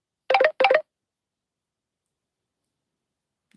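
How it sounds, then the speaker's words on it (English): A phone notification bell plays two quick, bright, closely spaced chiming blips, followed by silence. "I hope you can't hear that notification bell."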